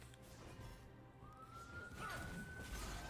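A faint emergency siren, police car or ambulance, rises and sweeps in pitch in the distance, heard beneath quiet background noise.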